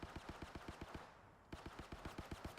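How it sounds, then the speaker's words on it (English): Gibby fires an automatic gun in Apex Legends in two rapid, evenly spaced bursts. The loud, close shots are separated by a brief pause. "Why did you shoot, Gibby?"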